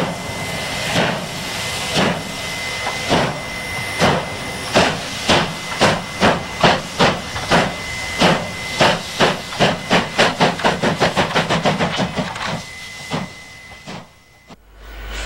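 A South African 25-class condensing steam locomotive, a 4-8-4, gives loud rhythmic chuffs of steam that start slow and quicken into a rapid, even beat before stopping, with steady hissing underneath and a sharp burst at the end.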